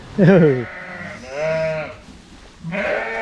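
Ewe with her newborn lambs bleating up close, a few loud wavering bleats in quick succession, with a voice speaking between them.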